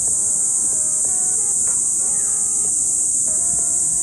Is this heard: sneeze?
no